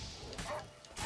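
Dogs in combat in the video game The Witcher 3 give short, harsh barks, with two rough bursts mixed into dense, noisy fight sounds.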